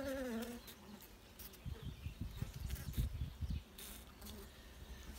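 Honeybees buzzing around a hive, a dense, steady hum with close passing buzzes rising and falling, alone without speech.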